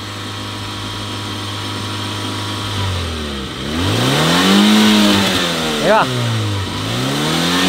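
A real full-size car converted to remote control revs hard as its accelerator is pulled, the engine note sweeping up and down in several repeated surges, loud and close, with someone talking briefly.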